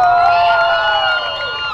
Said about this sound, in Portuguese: Cadê a torcida da mulherada? Faz barulho aí!